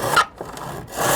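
A hand saw draws back and forth through wood held in a mitre block, two loud rasping strokes with a softer pass between, close and clear with no talking.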